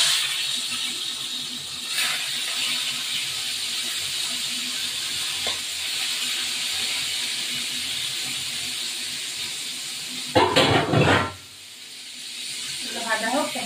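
Fish dropped into hot oil for a thin hilsa curry with ridge gourd gives a steady close hiss and sizzle, then a sudden loud burst of spitting as the pieces go in.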